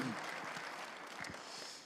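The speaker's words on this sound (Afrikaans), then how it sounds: "Kom ons gee die Here 'n klap." A church congregation claps together in a steady, dense patter of applause that holds evenly throughout, with faint voices mixed in.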